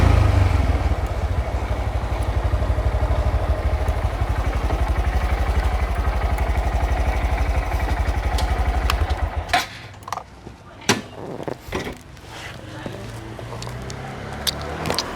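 A Honda Grom motorcycle engine runs with a steady, close, low rumble for about nine seconds, then cuts off, leaving clatter and handling sounds.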